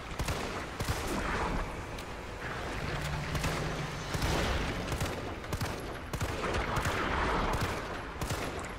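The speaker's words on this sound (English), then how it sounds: "I had to kill that with a pistol." Dense pistol fire in the survival horror game Resident Evil 3 Remake, with repeated sharp shots and impacts over a busy, constant layer of game sound.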